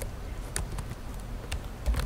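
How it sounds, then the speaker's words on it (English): Quiet, close typing on a computer keyboard, with scattered light key clicks at an uneven pace. "Let me type something first."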